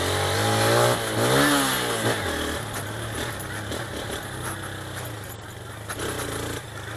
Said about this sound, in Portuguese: Deixa eu dar uma corta pra vocês aqui, um escape pra vocês verem.